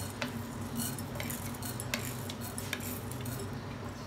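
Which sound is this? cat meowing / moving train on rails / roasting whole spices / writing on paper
roasting whole spices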